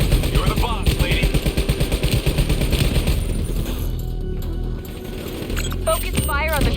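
Call of Duty: Black Ops 3 combat with rapid machine-gun fire hammering in a steady loud rhythm for the first half, then scattered shots and mechanical effects, with a voice speaking over the action.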